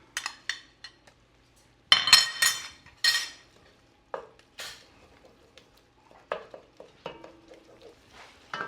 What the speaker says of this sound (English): I've been sauteing these vegetables for about 10 minutes